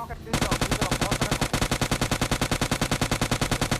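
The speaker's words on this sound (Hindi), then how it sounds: "ऊपर देखो क्या ही गन शॉट की आवाज़ आ रही है ना" Rapid automatic gunfire from PUBG Lite rattles in a fast, even stream of shots that starts abruptly after a brief moment and runs loud to the end.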